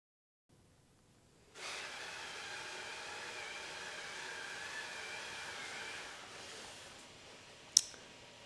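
A Maslow CNC machine moves during anchor-point calibration, giving a steady whirring hiss that starts abruptly, runs evenly for several seconds, then eases off and ends with one sharp click.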